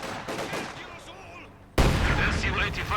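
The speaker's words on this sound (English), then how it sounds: "Infantry fire incoming." Infantry gunfire in Company of Heroes 2 starts as a loud burst of rifle and machine-gun fire halfway through and continues as dense rattling battle noise, following quieter game sounds.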